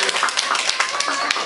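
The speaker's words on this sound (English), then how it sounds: "A round of applause for Shizar Bhaiya." Audience at a Nepalese community meeting applauds a guest, a brief dense burst of many hands clapping from a crowd nearby.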